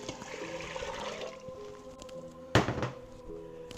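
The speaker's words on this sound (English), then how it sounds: "I'm gonna go ahead and put the beans and the liquid in there." Cooked beans with their liquid and water tipped into a pot, a soft wash of pouring followed by a sudden louder splash and thunk, close in a kitchen with music faintly behind.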